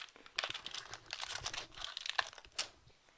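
Photopolymer printing plate gently peeled up by hand, giving a soft, close crinkling and faint tearing crackle that runs in uneven bursts for a few seconds, quiet overall with no voices.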